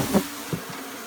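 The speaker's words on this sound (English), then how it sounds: "that is a lot of flipping bees" Swarm of honey bees buzzing around a bee vacuum during removal from an infested home, a close, droning hum with a couple of louder swells as insects pass near, no talking.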